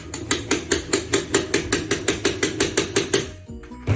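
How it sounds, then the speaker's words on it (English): A tool taps a star washer onto a blind's tilt rod that is braced against a hard surface: about fifteen quick, evenly spaced metallic knocks close by, then a brief pause and one more tap, with no talking. "When you do tap it on, you will need to put your other end against a hard surface so it doesn't move."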